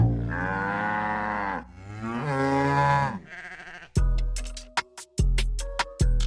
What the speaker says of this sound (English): Luscious wheat fields, majestic mountains, and cows.